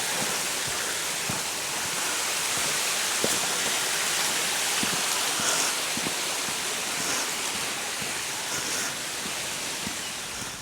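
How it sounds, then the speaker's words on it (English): A brook with small waterfalls runs beside a hill path on the walk from Edale up Grindsbrook Clough to Kinder Scout, giving a steady, close rush of water with no talk. "The actual brook itself to our left-hand side, running away in the background, little waterfall bits"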